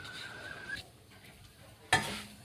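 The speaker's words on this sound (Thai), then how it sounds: "รอให้พริกกับกระเทียมสุกก่อนนะครับผม" Chili and garlic sizzle in a pan, a faint steady frying hiss with two sharp scraping stirs of a utensil, close and quiet, no talking.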